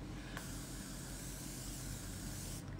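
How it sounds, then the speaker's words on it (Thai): A facial mist spray lets out one steady, close hiss lasting a couple of seconds before cutting off, heard alone without talk. "สเปรย์ฉีดหน้านิดนึง"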